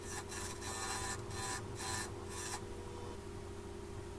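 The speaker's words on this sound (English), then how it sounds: "just take the square bit carbide tool and turn it down, get rid of all the jagged edges, make it round" Square carbide bit tool turning a wooden ring blank on a lathe, a loud rough scraping rasp in several pulsing bursts over a steady motor hum, fading to just the hum.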